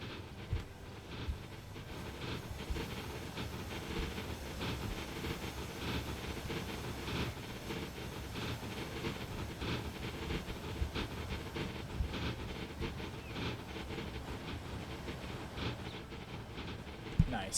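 Heavy train rumbling along the track in the railway simulation game Transport Fever 2, a steady low, loud rolling drone with faint hiss and clatter that persists throughout, a brief sharper knock near the end.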